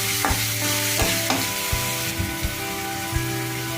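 Onions and tomatoes fried and stirred in a pan for Bombay sagu, with a constant loud sizzle and repeated sharp knocks and scrapes of the spoon against the pan, close up.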